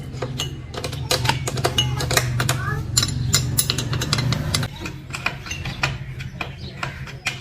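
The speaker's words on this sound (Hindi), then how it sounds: "तो ये इस तरह जो है वो आपने इसके दोनों नट निकाल लेने हैं।" Ratcheting clicks from a 13 mm wrench loosening the nuts on an air compressor head, a steady run of close metallic ticks over a low motor hum, with talk partly overlapping.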